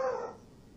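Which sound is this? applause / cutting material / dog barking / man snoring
dog barking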